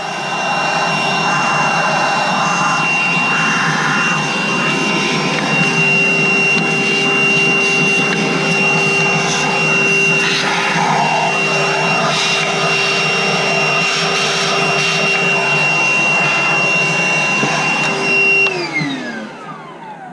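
A vacuum cleaner sucks debris from the corners around the open intake on a Chevy 4.3 engine in an S10 Sonoma, a loud steady whine and roar running close and continuous before winding down at the end.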